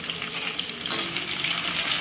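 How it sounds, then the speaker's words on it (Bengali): Onions fry in hot oil with dried red chillies, giving a loud, steady crackling sizzle close by that runs the whole time with no talk. "একটু তেলটা গরম গরম হবে, ভাজা ভাজা হবে।"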